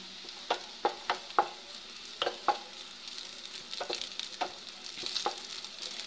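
Ingredients browning in a pan on low heat as raisins are tossed in give a faint, soft sizzle. Sharp spatula clicks and scrapes come in irregular bursts, with no voices.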